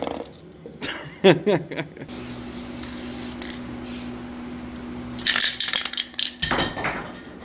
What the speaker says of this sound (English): I can see the clear coat in the air, the overspray and that